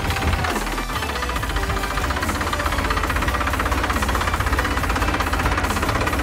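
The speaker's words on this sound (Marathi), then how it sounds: "आणि फायनली मला ट्रॅक्टर चालवता आला" A tractor engine runs continuously close by in a village setting, giving a loud, steady diesel rumble with a rapid knocking throb that holds unchanged throughout, and no talk.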